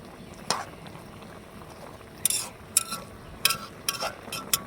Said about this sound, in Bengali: এখন আমি নেড়ে চেড়ে দেবো একটু